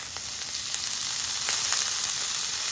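Two large onions sizzle steadily in a little oil in a pan over medium-low flame, a continuous close frying hiss with a few light stirring scrapes, no talk.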